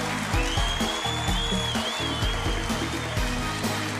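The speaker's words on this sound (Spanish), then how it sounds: "Un aplauso para Marcela." Audience applause greeting a guest on a Colombian TV show, steady clapping mixed with loud rhythmic music playing throughout.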